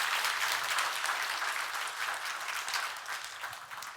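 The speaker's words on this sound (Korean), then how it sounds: "우리 큰 박수로 축복해 주시겠습니다" A church congregation breaks into steady, full applause for a visiting elder during a Thanksgiving Sunday worship service, the clapping dense and sustained, tapering slightly toward the end.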